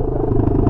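A Honda XRE 300 motorcycle with its exhaust removed, a loud close raw engine clatter that stays steady through a brief moment with no voices.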